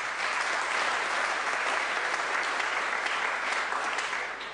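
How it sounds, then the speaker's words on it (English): An audience claps for Pat Humphreys during a valedictory statement in parliament, a dense, even burst of applause that holds steady for several seconds and then eases slightly, with no voices over it. "do give her a clap"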